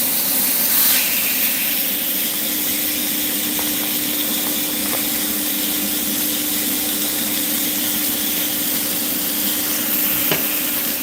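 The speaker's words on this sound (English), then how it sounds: "We have the air fryer going off, we have the sizzling of the pan." Eggs and goulash meat sizzling in a frying pan while an air fryer runs nearby, a steady broadband hiss with a constant low hum throughout, a few faint clicks and clatters near the end.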